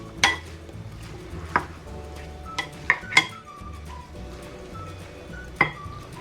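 A spoon stirring a spiced chutney and yogurt mixture in a bowl for dahi phulki, heard as close, scattered metallic clinks and taps against the bowl with soft scraping between them, no voices.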